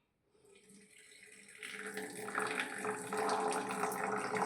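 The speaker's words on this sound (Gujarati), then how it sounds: "જો આ રીતે બીજો ગ્લાસ નાખીને આપણે કાઢી નાખીએ પાણી." Water is poured over grated potato and drained off to rinse out the starch for potato fritters, a steady splashing pour that starts after a brief silence and grows fuller and louder, close and with no talk.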